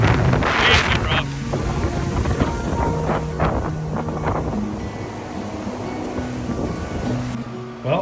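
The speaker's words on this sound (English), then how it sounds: "Well, I survived the wind." Strong wind roars across a rough, deserted beach with blowing sand, a loud continuous gusting rush buffeting the microphone, with surf and a low rumble underneath and no talking.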